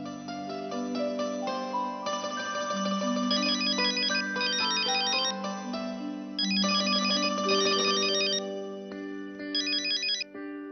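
A phone ringtone plays a bright repeating electronic melody for about ten seconds, loud and near, with no talking over it.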